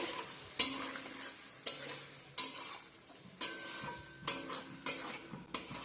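A spoon stirs spices such as cumin, coriander and Kashmiri chilli powder into a chana dal masala with softened tomato in a pan, with about eight separate scraping strokes, close and fairly quiet, and no talking.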